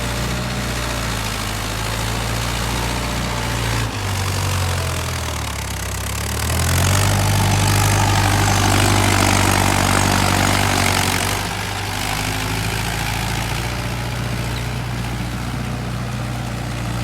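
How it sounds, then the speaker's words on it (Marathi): A Mahindra tractor engine idles steadily in a paddy field during rice transplanting, a continuous low, throbbing rumble that swells louder for a few seconds midway before settling back to an even idle, with no talk. "हे बघा ट्रॅक्टर"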